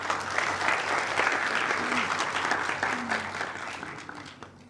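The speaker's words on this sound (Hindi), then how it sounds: "तो आप अपने लिए तालियां बजाएं।" A seminar audience at a Population Welfare Department event breaks into sustained applause, with dense, steady clapping that fills the room and slowly fades toward the end.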